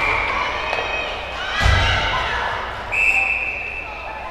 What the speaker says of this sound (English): whistle was blown. I'm not sure why.